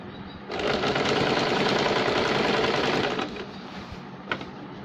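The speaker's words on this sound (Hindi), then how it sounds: "अब हम यहाँ से सीधी सिलाई लगाएंगे।" A sewing machine running a straight stitch on a baby girl's shirt: a rapid mechanical whir that starts abruptly, holds steady for about three seconds, then stops, followed by quieter handling clicks.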